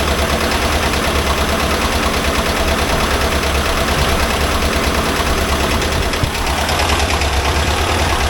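A close, loud 1982 air-cooled VW Vanagon Westfalia engine idles steadily with a rough, clattering mechanical texture and constant vibration throughout.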